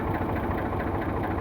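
A 45 HP Eicher 485 tractor idles close by, its diesel engine chugging in a steady, rapid knocking rhythm with constant vibration and no talk over it.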